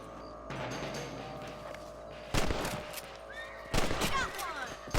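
Rifle shots at rabbits in the video game Red Dead Redemption, two loud, sharp cracks a little over a second apart, each trailing a short echo, over a steady outdoor ambience, with a voice faintly present.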